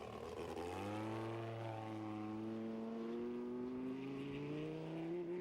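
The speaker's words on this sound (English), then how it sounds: "you can hear the misfire breaking up badly" A big V10 race-truck engine, rated at 700 horsepower, misfires and breaks up as it climbs through the revs at a 1994 race in Barstow, California, giving a loud, rough, stuttering note without talk.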